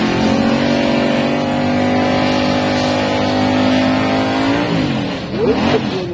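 A Chevy Nova drag race car engine at a drag racing championship finals round, a loud, sustained roaring drone with a rising rev and quick pitch sweeps near the end, a voice faintly under it.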